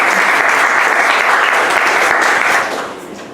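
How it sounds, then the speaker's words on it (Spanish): An audience applauds a guest in a loud, dense burst of clapping that holds steady for a few seconds, then fades and thins toward the end. "hay que darle un fuerte aplauso a Welmer"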